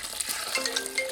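A steady sizzling hiss of hot oil frying in a pan, close by, with a few faint pops and thin tones over a constant crackle.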